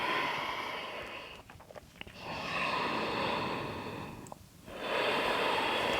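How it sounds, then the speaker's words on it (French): Slow, steady Ujjayi breathing during ashtanga yoga practice, long hissing inhales and exhales rising and falling close to the microphone, with no talk. "on a le son Ujjayi comme support d'attention"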